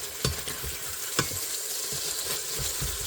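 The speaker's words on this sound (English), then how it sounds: "Use a spatula because these are going to stick to the bottom of the pan, and flip them over." Boneless chicken thighs sizzling loudly in a pan, loosened and flipped with a spatula: dense, close frying hiss punctuated by a few sharp scrapes and knocks, with no speech.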